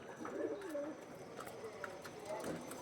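Young pigeons coo softly in a series of low, warbling calls close by, with someone talking over them at times.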